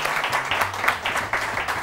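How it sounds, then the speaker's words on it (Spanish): Studio audience at a Spanish television show applauding, steady moderately close clapping that runs the full couple of seconds with faint voices underneath. "Aplauso también para Aurora"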